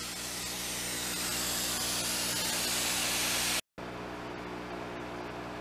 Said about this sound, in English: I'm going to spray it down thoroughly